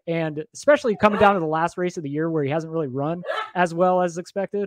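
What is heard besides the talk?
dog barking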